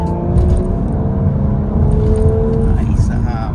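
Audi S5 Sportback engine revving while driving, a loud, smooth note climbing in pitch as revs build, then easing and rising again over steady road roar.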